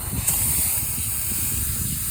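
A spray gun hisses steadily as it applies Sikkens UV primer to a car trunk lid outdoors, a continuous close airy rush with wind rumbling underneath and no talking.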